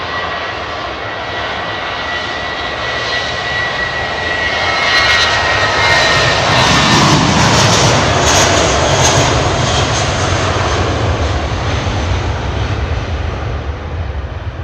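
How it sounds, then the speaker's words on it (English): Airbus single-aisle jet engines at Heathrow Airport roar loud and steady, swelling to a broad peak midway with a brief higher whine, then holding a sustained rumbling drone throughout. "In terms of the small single aisle jets, A320s, 321s, all that kind of thing, the Airbus single aisle family."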